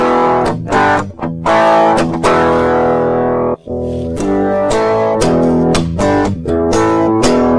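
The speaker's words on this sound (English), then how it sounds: "select the distortion category, and you can see I have a variety of distortions to choose. Well, let's sample a couple of these." Distorted electric guitar played through a Digitech iPB-10 programmable pedalboard, cycling through its distortion presets: loud, sustained overdriven chords and riffs with brief breaks as settings change.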